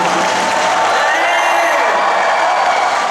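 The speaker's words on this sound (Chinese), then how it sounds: "来点全场的尖叫声，我听一下好不好" A concert crowd at the opening show of the Kaohsiung Music Center screams and cheers in a loud, steady, continuous roar that fills the whole stretch without a break.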